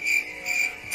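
Crickets chirp in a steady pulsing trill, a bright continuous tone that swells and dips over one second, with no talk over it.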